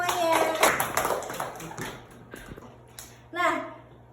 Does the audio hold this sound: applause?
yes